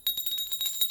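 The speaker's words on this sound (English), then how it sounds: "and use the bell" Small bell rung after a tarot reading, a quick series of high, thin tinkling strikes, faint and close with no voices.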